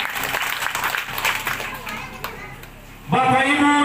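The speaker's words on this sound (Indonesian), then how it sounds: "Tepuk tangan untuk Nias Barat." A village crowd at a ceremony with the regent claps for Nias Barat in a dense round of applause mixed with children's voices, and a speaker's voice comes in loudly near the end.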